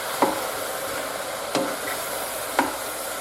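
Mushrooms frying in oil in a pan get stirred, giving three short scraping clacks spaced about a second apart over a steady, soft sizzle.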